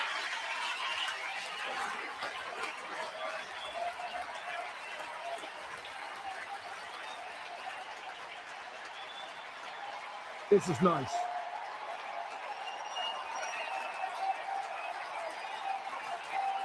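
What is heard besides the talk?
baseball stadium crowd applauding Cristopher Sanchez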